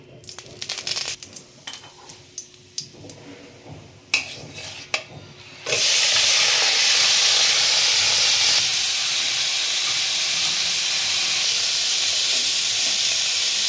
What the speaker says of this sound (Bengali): অল্প তেল দিয়ে আমি মাছটা সাঁতলে নেব।